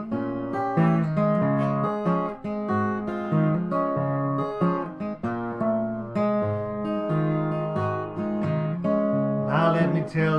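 Fingerstyle blues guitar plays a passage of a blues piece, a lively ragtime-like picked pattern with alternating bass and treble melody, close and clear, with no voice.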